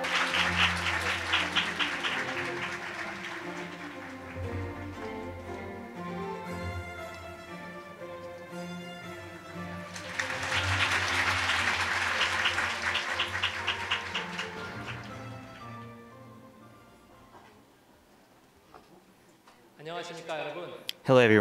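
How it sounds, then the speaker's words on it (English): Applause greeting the opening address at a lecture on peaceful unification of the Korean Peninsula, heard mostly beneath loud music. The clapping rises in two swells and fades out before a short burst of other sound at the very end. "Please give him a great round of applause."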